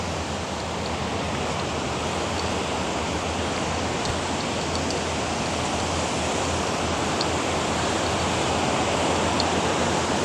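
The swollen Melamchi river rushes past its stones in a loud, continuous roar of flowing water, broad and unbroken from start to finish.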